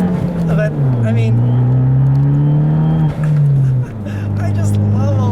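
A manual 2013 Fiat 500 Abarth engine pulls loud and close, its pitch rising and falling with gear changes and a short dip that fits a turbo blow-off, with a person talking over it.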